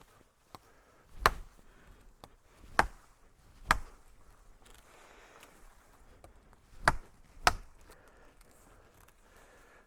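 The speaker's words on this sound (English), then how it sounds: "and we'll cut off the excess right here." A mini parang chops through the excess end of a wooden pole in five or six sharp, separate strikes spaced irregularly, each one loud and close against a quiet background with no talking.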